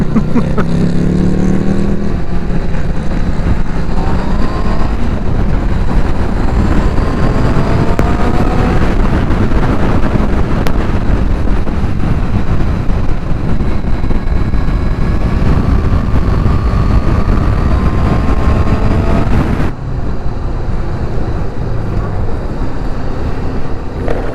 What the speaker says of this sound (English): you can't even hear my bike over Dave's.